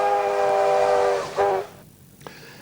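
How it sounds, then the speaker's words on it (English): Whistle of South Maitland Railway steam coal locomotive number 22, a 1911 Manchester-built engine, sounding one sustained loud harmonic blast with a brief second toot, then fading into quiet ambience. "the last steam train to haul coal on the South Maitland line, number 22, puffed her way into the locomotive shed at Maitland"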